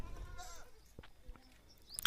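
Goats kept in a Marathi village bleat faintly in the distance, a few thin wavering calls over quiet outdoor ambience, with a brief sharper sound at the end.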